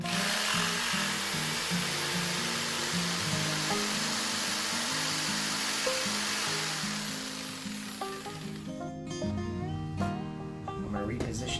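A jigsaw cuts through clamped wood with a loud, steady buzzing drone that carries on without pause for most of the stretch, then winds down and changes pitch near the end as the blade slows.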